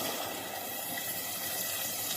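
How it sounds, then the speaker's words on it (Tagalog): Water is poured into a cooking pot of chicken and papaya, giving a steady, faint, continuous rushing hiss without pauses or voices. "Tapos, lagyan ko siya ng tubig."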